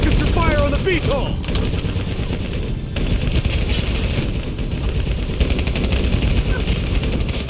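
Dense, continuous gunfire and explosions from the shooter game Call of Duty: Black Ops 3 during a fight with an APC and a VTOL aircraft, sustained loud battle noise with a brief pause, voices shouting over it.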